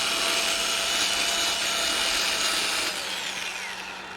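A wooden horn noise maker spins on a woodturning lathe while sandpaper lightly rubs its surface, giving a steady, close, hissing whir that eases off slightly near the end.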